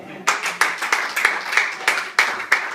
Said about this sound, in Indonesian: bisa tepuk tangannya.